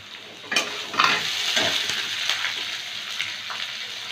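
Beans and carrots fry in a pan with a steady close sizzle, broken by several sharper scraping stirs and clatters of a spoon against the pan.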